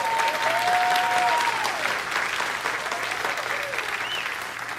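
Sustained, dense applause from an audience at a talk, loud at first and easing slightly toward the end, with a few scattered voices and whoops in the mix.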